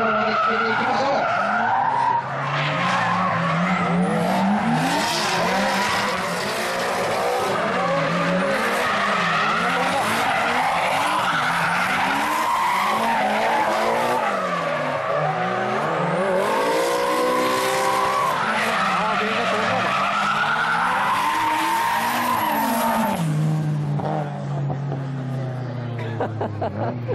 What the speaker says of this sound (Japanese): もうタイヤがない音ですね。